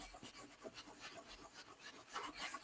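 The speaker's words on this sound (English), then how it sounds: "we're just going to rub on top of where we've already put color" A paper towel rubs back and forth over a painted surface, a soft, faint, rhythmic scuffing with repeated strokes, close up and with no talk.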